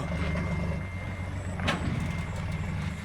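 An Isuzu 360 truck rumbles steadily up close while reversing through a tight turn, with a brief hiss partway through.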